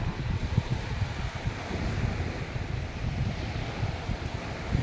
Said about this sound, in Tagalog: medyo malabo ang dagat sa ngayon gawa ng malakas ang alon